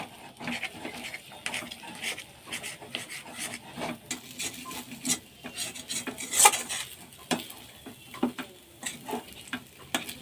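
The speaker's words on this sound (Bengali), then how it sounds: "এটা সমানে নাড়াতেই থাকতে হবে, তা নাহলে ডলা পাকিয়ে যাবে।" A spoon scrapes and stirs thick Bombay Karachi halwa in a pan, a steady rhythm of rasping strokes and light metallic clinks running for about ten seconds at moderate volume. No voices are heard.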